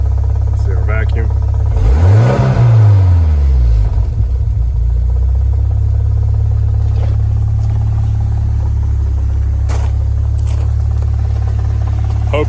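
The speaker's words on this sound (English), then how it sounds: "There's our start. It's a little bit loud." A turbocharged Ford Ranger engine fires up with a brief rising rev, then settles into a loud, steady idle rumble close by.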